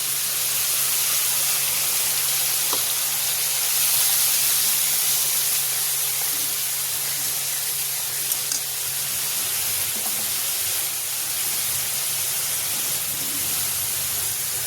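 Ground spice paste and potatoes fry in a pan over a low flame, giving a soft, even hiss that runs unbroken throughout with a few faint clicks and no voices.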